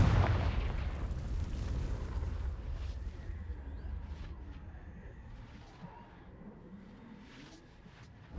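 A Confringo fire-blast spell in Hogwarts Legacy on PlayStation 4 erupts in one loud opening boom, then a rumbling burning tail fades over several seconds with faint crackles, no voices.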